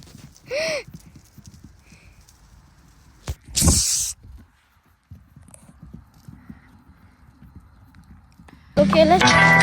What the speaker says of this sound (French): je ramène le cheval de ma meilleure amie dans son box